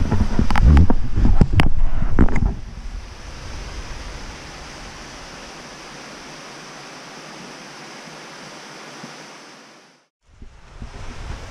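Steady broadband rush of a waterfall in Kenomee Canyon, a continuous even roar heard from nearby, with some louder thumps and handling noise at the start and a brief dropout near the end.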